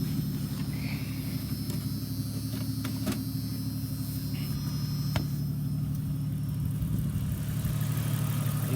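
A Jeep engine idles steadily while warming up, a continuous low rumble running close and even throughout, with a few faint clicks and light rattles over it.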